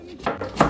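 Meat being finely chopped with a knife on a board for chebureki filling, three quick close thuds in an even rhythm.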